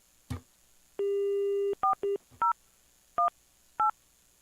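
Telephone dialing for a call placed into a county board of equalization meeting: an initial click, a long steady tone, then a quick series of short touch-tone beeps in an uneven rhythm, clear and close with no talking.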